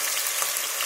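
Carrots hit hot oil with a dense, steady sizzle that fills the whole brief moment, close and loud with no voice.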